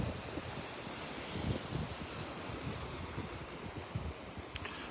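Wind and surf on a Gulf beach in North Naples, Florida: a steady roar of gusting wind buffeting the microphone mixed with the continuous wash of waves, with no voices.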